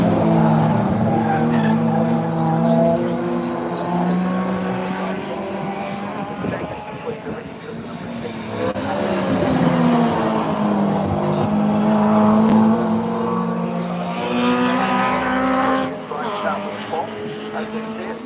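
Historic racing cars roar past at Donington Park circuit, engines loud and sustained with rising and falling pitch as they pass, tyre noise mixed in, while a commentator talks over the top.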